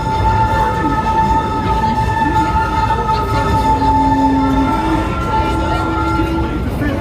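Disneyland Railroad train riding through a tunnel on its Grand Circle Tour, rumbling steadily with long metallic wheel squeals ringing over the clatter, loud and close, with a voice faintly present.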